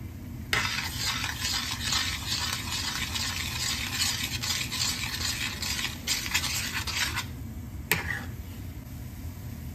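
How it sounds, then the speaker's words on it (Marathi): Sheera halwa being stirred with chopped dry fruits mixed in: a spoon scrapes steadily through the thick mixture in a pan with a faint sizzle, close and continuous, broken by one sharp tap near the end, no talk. "ते वरनं ड्रायफ्रूट्स आपण ह्याच्यामध्ये घालून घेऊ आणि व्यवस्थित याला मिक्स करून घेऊयात"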